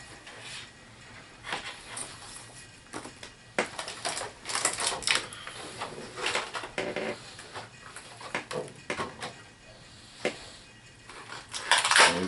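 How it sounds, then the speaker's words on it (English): A Marvel HeroClix Fast Forces pack from the X-Men: Rise and Fall set is torn open, giving scattered sharp plastic clicks, rustles and crinkles in irregular bursts, close up with no talking. "Now we'll crack open those Fast Forces."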